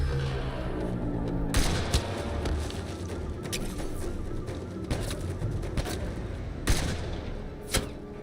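Gunfire in the sci-fi shooter game Mass Effect: Andromeda, sharp bursts and rapid volleys cracking repeatedly over a constant rumbling battle din, with several loud close shots standing out.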